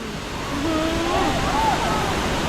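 A steady rush of falling water fills the scene, broad and continuous, with a faint voice or whistle-like tone drifting over it.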